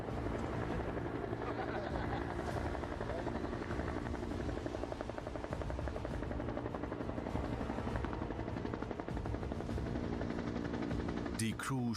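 Military helicopter during alpine warfare training, its rotor chop and turbine whine loud and steady throughout as it approaches, filling the whole stretch with a dense continuous roar.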